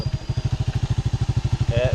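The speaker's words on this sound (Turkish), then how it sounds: "Hafif gaz verirken debriyajı yavaşça bırakıyorum ve gidiyorum." A manual-transmission beginner motorcycle idles and pulls away from a start, its engine throbbing in a fast, even pulse that rises slightly at the end, loud and close, with someone talking over it.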